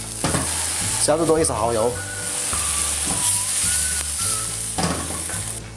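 Duck with sour bamboo shoots and added bamboo shoots bubbles and sizzles steadily over high heat as the sauce reduces, a continuous close hiss running beneath a person talking.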